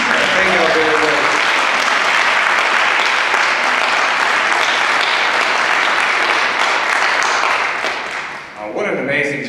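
Steady, loud applause from an audience at a community speaking event fills the room for several seconds and then tapers off, with a voice coming in near the end.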